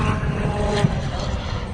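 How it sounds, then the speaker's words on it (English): Ferrari Challenge race cars lap the Circuit of the Americas track as a steady, distant engine drone with a broad roar that holds evenly throughout, with no clear passes and no talk. "it's Ferrari Challenge cars going around the track right now."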